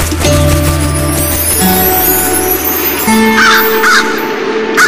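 A crow caws loudly and repeatedly up close, harsh rasping calls sounding over a soundtrack of sustained music.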